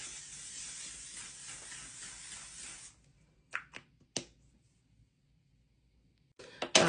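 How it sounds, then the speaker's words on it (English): A steady hiss of makeup setting spray runs for about three seconds, then stops, leaving a few soft taps and handling clicks. "Now I'm just gonna go ahead and put on my setting spray."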